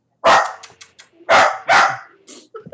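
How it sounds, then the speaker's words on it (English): A pet dog barks loudly and close by in three sharp, forceful barks, followed by softer yips and whimpers. Nobody speaks. "Quit barking."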